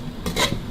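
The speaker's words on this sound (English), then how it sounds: "She just threw in the kaffir lime leaves and just stir fried it just for a couple more seconds." Brief close stir-frying of chili duck with kaffir lime leaves in a Thai spicy stir fry, a short hissing sizzle with a utensil scrape in the middle, alone without talk.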